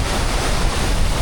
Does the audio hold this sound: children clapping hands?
no